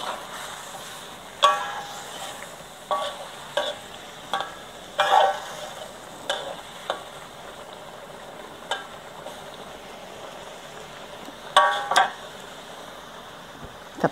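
Thai pineapple curry in rich coconut milk simmers in a pot with a steady low bubbling hiss, broken by scattered pops and light clinks, close by with no talk.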